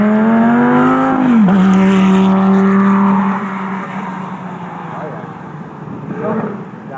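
Supercar on a track driving experience, a loud, near engine note that climbs, dips sharply and then settles into a sustained high squeal-like tone before fading into lower road rumble, with someone talking over it.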